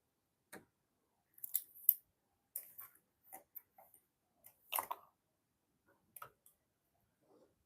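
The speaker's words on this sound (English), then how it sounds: "I'm just going to snip through this way" Scissors snip through fabric at a sewing table: a run of crisp, close, separate cuts with short pauses between them, heard alone with no talking.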